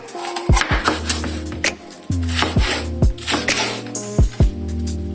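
A knife cuts bell pepper into cubes for a vegetable sauté, making several crisp, close thuds on a board at an uneven pace over a steady background hum.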